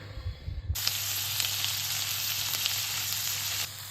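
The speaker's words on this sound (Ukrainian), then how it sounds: "І смажу спочатку креветки" Loud, continuous sizzling and crackling of shrimp frying in hot oil, starting abruptly over a low hum and holding steady throughout.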